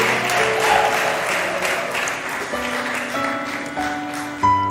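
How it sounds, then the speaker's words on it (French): Applause from the audience at a televised talent show elimination night as a recording-contract prize is awarded, a steady crowd clapping layered under music and voices, with a sharper burst near the end. "Est-ce qu'on peut applaudir pour Josué?"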